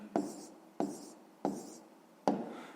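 A pen scratches across paper in four short, evenly spaced strokes, writing out a fraction during a fifth-grade maths exercise. The strokes are close and moderately loud, with quiet pauses between them.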